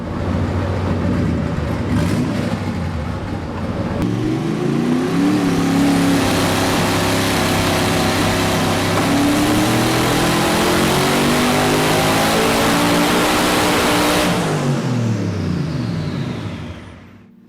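A Mercedes-AMG E55 engine with a custom dry sump system revs hard and holds high under load for long pulls on a dyno, a loud steady roar with rising and falling pitch, then winds down.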